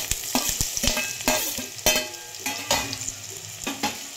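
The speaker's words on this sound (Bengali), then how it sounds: "মশলাটা ভাজা হয়ে গেছে, এখন আমি দিয়ে দেব ভেজে রাখা আলু আর পটল" Fried potatoes and pointed gourd are tossed into spices frying in a pan, with a rhythmic series of close spatula scrapes and stirs over a low sizzle, no voices.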